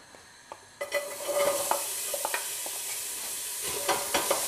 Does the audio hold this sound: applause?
no